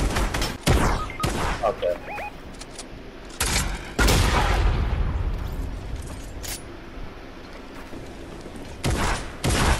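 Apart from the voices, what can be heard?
gunfire in a shooter video game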